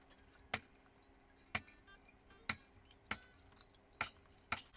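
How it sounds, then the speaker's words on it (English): Guitar strings on a Telecaster snipped one after another with cutters, six sharp, bright metallic clips at roughly even intervals, each with a short ringing tail in a quiet room. "the first thing we shall do, as usual, is to cut off the strings"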